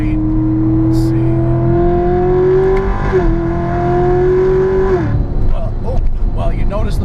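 A 600 hp Magnuson-supercharged C7 Corvette Z51 V8 revs up loudly with a rising supercharger whine, drops briefly as it shifts, climbs again, then eases off near the end.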